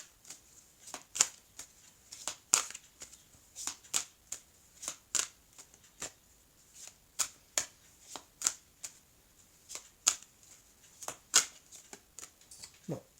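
Grand Oracle de l'Amour oracle cards being shuffled by hand, a steady run of crisp riffling snaps and flutters repeating for over ten seconds, close and bright with no talk over it.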